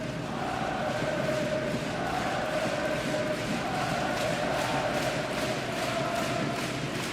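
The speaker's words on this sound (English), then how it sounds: "There's some of that Swiss exuberance in the crowd" Swiss fans at a Spengler Cup ice hockey game in Davos keep up a steady, rumbling crowd roar with cheering, a broad wash of arena noise that lasts the full stretch without letting up.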